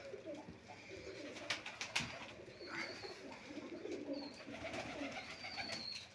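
Pigeons coo while gathering to feed on scattered grain, soft repeated throaty coos with a few wing flutters, faint and close, and no talk.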